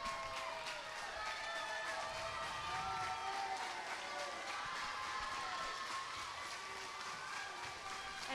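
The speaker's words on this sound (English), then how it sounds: "And this is every team cheering for her." Swim teams cheering for the last swimmer at the 2021 4A-1A Arkansas State Swim Meet, a steady roar of crowd voices, whistles and whoops echoing through an indoor natatorium, held at moderate distance.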